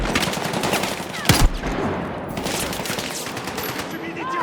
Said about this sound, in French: Subis des tirs nourris!